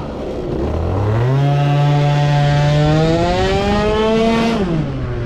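A small scooter engine, freshly tuned on the carburettor, revs up and pulls hard from a start, its pitch climbing steadily and holding high before easing off at the end, loud and close with no talk.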